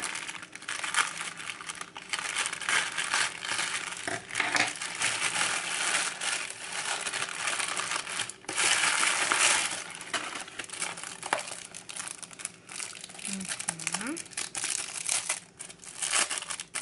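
A soft plastic parcel from China is torn open by hand, with continuous close crinkling and crumpling and occasional sharper tearing rips.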